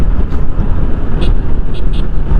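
Loud, close road noise from a truck being driven recklessly, a continuous engine rumble and tyre roar with a few brief higher hissing bursts over steady traffic.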